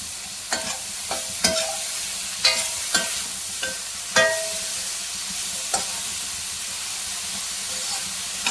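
Ridge gourd pieces with turmeric frying in a pan for a milk-based ridge gourd curry, giving a steady loud sizzle broken by sharp, irregular clacks of a spoon against the pan, with no talking.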